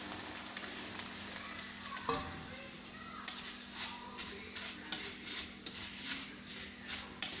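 Poha flakes sizzle as they go into hot oil for chivda, a steady crackling fry with soft stirring taps and a low hum underneath, fairly quiet and close.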